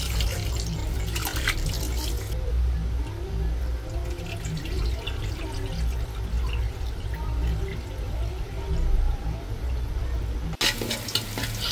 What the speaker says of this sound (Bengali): এখন এই যে চালটা ভালো করে ধুয়ে একটু ঝরা দিয়ে রাখবো